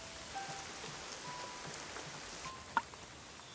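Heavy tropical rain falls steadily as a dense, even hiss on surfaces, with a single brief sharp tap near the end and no voices.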